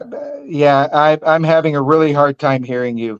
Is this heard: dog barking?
yes